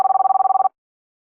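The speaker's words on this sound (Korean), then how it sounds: "케빈 우에게 전화를 걸었다" A telephone ringback tone from an outgoing call plays as a rapid series of short electronic beeps, loud and close, then stops abruptly and leaves silence.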